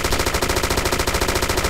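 Automatic weapon fire in the military shooter ArmA 2 rattles in a rapid, unbroken burst of evenly spaced loud shots, close and dense, with no talking.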